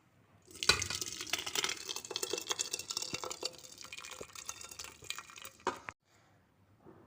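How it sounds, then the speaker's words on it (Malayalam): Water from pressure-cooked rice drains out into a vessel in a steady rushing, splashing pour with small clatters, starting abruptly and cutting off near the end, close and fairly loud. "ഇനി നമുക്ക് ഈ വെള്ളം വാർന്ന് കളയാം."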